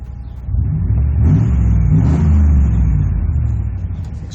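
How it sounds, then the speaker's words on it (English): A 1997 Chevrolet C1500 pickup engine revving up through its exhaust, loud and close, with a deep rumbling throb that swells, holds for a couple of seconds, then eases back down. "Exhaust sounds awesome."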